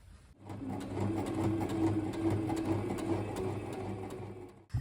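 A sewing machine restitches a seam on a kimono in one steady, close run of several seconds. Its motor hums with a fast, even rapping of the needle, then it stops with a small knock at the end.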